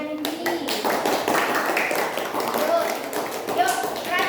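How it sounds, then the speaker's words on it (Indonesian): Classroom applause for a student group during a primary-school lesson on food chains: a steady patter of many hands clapping continues for several seconds at moderate level, with a few voices chattering underneath. "Bagus, tepuk tangan buat kelompoknya Nindi."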